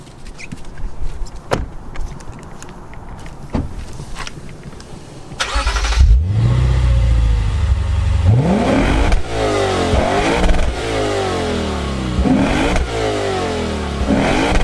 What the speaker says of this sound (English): Now what I'm going to do is I'm going to start the engine. I want you to hear the exhaust note.